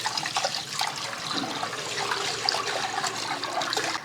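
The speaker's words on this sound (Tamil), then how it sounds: "தண்ணி ஊற்றி ஊற வச்சுருவோம்." Water pours steadily into a clay cooking pot to soak rice, a continuous splashing trickle close by with no talk over it.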